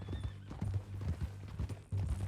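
Horse hooves clip-clop at a steady walking rhythm in the Red Dead Redemption 2 video game, close and clear, with low game ambience behind them.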